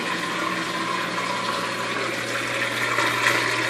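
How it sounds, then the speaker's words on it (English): A Magic Chef washing machine drains after a full fill, giving a steady loud pumping rush of water with a constant motor hum, unbroken throughout. "it shouldn't be as loud as it is now when it first drains the water out."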